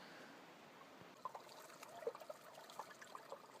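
Faint, steady trickle of water with soft irregular drips and splashes in Banning State Park, fairly quiet and distant, with no voices.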